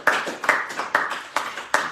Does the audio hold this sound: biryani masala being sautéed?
no